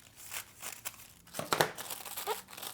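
Scissors or a blade cutting a piece of material for a Harry Potter Pick N Trix craft, with crinkling and a few sharp snips close by, no speech.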